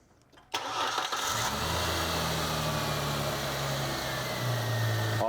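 A car engine in a garage cranks and catches with a loud start, then settles into a steady, even idle that runs on close by without talk.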